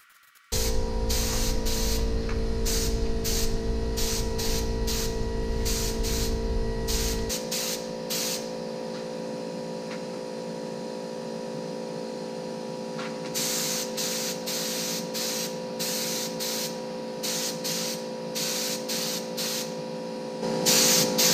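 Spray painting an International Harvester Super M tractor in short bursts, a steady aerosol hiss under a constant hum, loud and close, pausing midway before resuming with repeated brief spritzes.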